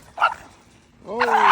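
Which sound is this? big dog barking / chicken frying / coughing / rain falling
big dog barking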